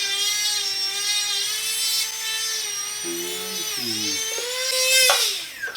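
A rotary stone grinds a custom sports mouthguard with a continuous high-pitched whine whose pitch shifts as pressure on the piece changes, ending in a louder burst.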